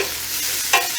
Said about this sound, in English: we're just sauteing them up